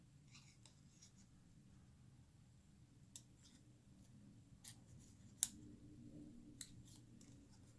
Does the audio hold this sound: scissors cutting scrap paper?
yes